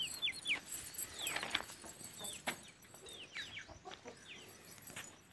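A hen in a cage gives quiet, intermittent clucks and short squawks against a faint background, heard alone with no talking.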